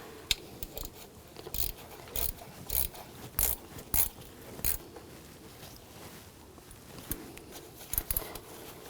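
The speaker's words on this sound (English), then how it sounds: "And tighten these bolts down." Ratchet tightening bolts on a turbocharger of a 2004-2009 Audi A4 Quattro 2.0L, heard as quick clicking bursts of pawl ticks in irregular short runs, close and moderately quiet, without talk.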